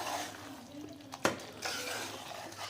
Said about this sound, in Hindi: उसके बाद हम इसको चलाएंगे।